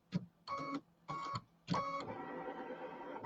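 An embroidery machine stitching borders and flanges, heard as several short bursts of rapid mechanical needle whirring with brief pauses, then a longer continuous stitching run, close and moderately loud.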